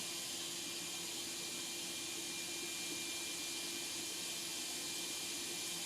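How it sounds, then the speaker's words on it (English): A DeWalt router spindle runs steadily on a CNC machine with its dust shoe attached, giving a constant high whine and airy hiss that hold evenly at moderate level throughout, with no talk over it. "Let me turn the spindle on."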